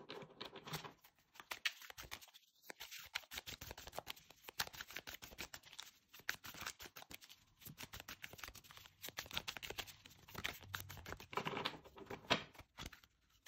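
A Dark Mansion tarot deck is shuffled by hand, giving a continuous, quick, soft patter of cards riffling and sliding for over ten seconds, close and fairly quiet, with almost no talking.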